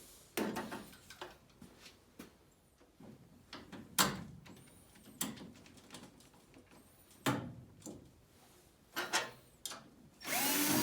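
Repeated short bursts from a power drill, starting and stopping irregularly with clunks and handling noises between them.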